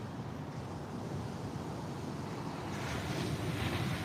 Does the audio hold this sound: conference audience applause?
no